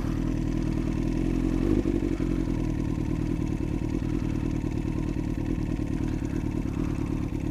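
A motorcycle creeps slowly through snow on the clutch, the rider's feet down, its engine a close, steady low drone with faint clattering throughout.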